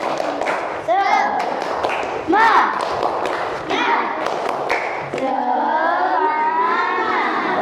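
Primary school children standing in a classroom chant and clap together in the 'tepuk semangat' rhythm, voices shouting over thudding claps, led by a teacher's calls, the group loud and close throughout.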